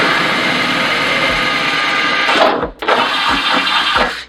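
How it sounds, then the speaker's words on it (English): A power drill whines steadily at high speed drilling a hole in a car bumper, then stops briefly and restarts, running in short bursts close to the listener. "You do have to drill one hole"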